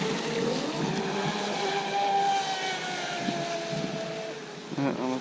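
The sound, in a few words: Miss Geico Zelos 36-inch twin brushless RC boat running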